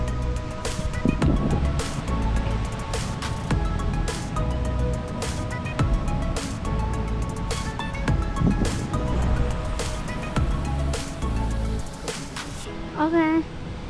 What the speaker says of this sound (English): Welcome to Kata Noi Beach.